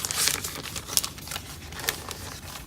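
Crafting foil being handled and crinkled at close range, a continuous rustling, crackling texture with a few sharper crinkles and no talking.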